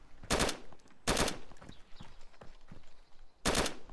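Gunfire in the video game DayZ: three sharp, loud bursts of shots spaced over a few seconds, with quieter rustling and game ambience in between.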